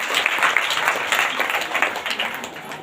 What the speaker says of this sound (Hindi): इसलिए आप लोग तेज ताली के साथ परमेश्वर को धन्यवाद दीजिए